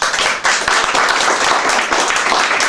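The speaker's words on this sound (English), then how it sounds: "ladies and gentlemen, a big round of applause for Ben Cornish" An audience at a comedy and juggling show claps loudly and close by to welcome comedian Ben Cornish, with a thick, rapid patter of many hands that holds steady throughout.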